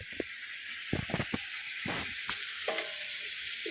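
Onion and garlic sizzle in a hot frying pan while beef caldereta is being cooked, a steady, fairly soft hiss broken by a few scraping clinks of a stirring utensil.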